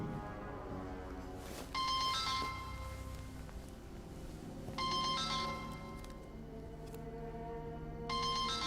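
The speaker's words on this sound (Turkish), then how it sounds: "bir saattir telefon çalıyor" An indoor telephone rings in three separate bursts spaced a few seconds apart, each a bright trilling ring over a quiet, low background hum, with no talk during the rings.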